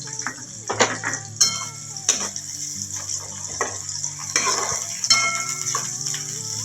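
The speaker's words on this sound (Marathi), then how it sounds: "कांदा गुलाबी होईस्तोपर्यंत तळायचा, गुलाबी होईस्तोपर्यंत हे करायचं, तळायचं।" Chopped onion frying in a pan for upma, with a soft sizzle under frequent clinks and scrapes of a metal spoon stirring against the pan, close and busy.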